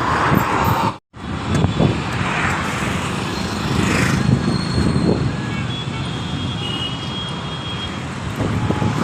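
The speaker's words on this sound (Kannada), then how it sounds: "ರೆಡಿ ಮೆಟ್ರೋ ಬರ್ತಾ ಇದೆ ನೋಡಿ" A metro train arriving at a station, heard as a loud, steady roaring rumble with a rising whine that fills the scene, with a brief drop near the start and busy traffic-like noise throughout.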